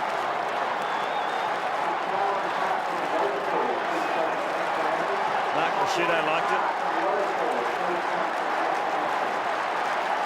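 A large crowd roars steadily at a night AFL semi final between Adelaide and Port Adelaide after a goal, as a commentator speaks over the sustained noise.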